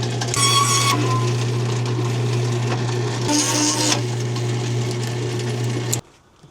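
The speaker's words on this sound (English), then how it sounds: "carbide hole saw, definitely the way to go" Carbide hole saw in a power drill cutting a hole for a custom toilet paper dispenser, a steady close whining drone with grinding bursts, stopping abruptly near the end.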